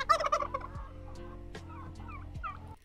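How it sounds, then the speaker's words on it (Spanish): Mother duck and her newly hatched duckling calling, a loud burst of quacking at first, then thin high peeps and a few more calls over a low steady background hum. "Y esta es la pata, lejos de sus huevos. Y aquí está un patito."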